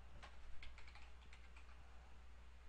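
A run of quick, light keystrokes tapped on a computer keyboard as a folder name is typed, soft and close against a quiet steady hum.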